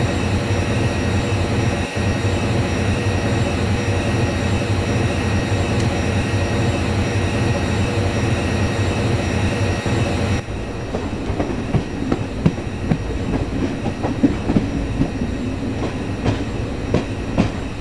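Simulated rail running of a WAP5 electric locomotive hauling the Indore–Pune Express in Microsoft Train Simulator: a loud continuous rumble with rhythmic clickety-clack of wheels over rail joints, the tone shifting to a rougher, busier rattle partway through.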